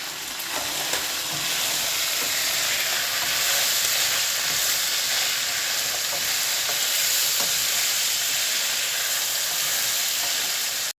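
Chicken with tomato and a spice paste fries in a pan with a splash of water added, giving a loud, dense, unbroken sizzle and hiss close up, with faint stirring scrapes and no voices.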